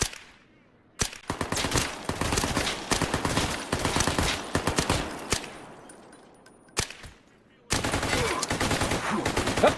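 Video game gunfire in a power plant setting, rapid automatic bursts of shots in several long loud volleys separated by brief silent gaps, ending abruptly as the weapon runs dry.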